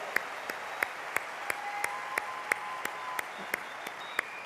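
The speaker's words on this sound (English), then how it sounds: "let's give them another round of applause" Audience applause with a steady bed of clapping and one clear, regular near clap repeating about three times a second, with faint voices underneath.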